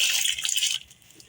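Drained, pre-soaked sella rice tipped into a pot of boiling water, a brief loud splashing hiss that cuts off sharply partway through, leaving a faint bubbling simmer.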